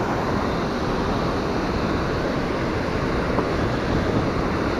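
Rupse waterfall roars as a dense, unbroken rush of falling water, loud and close, filling the whole scene with steady broadband noise and no voices.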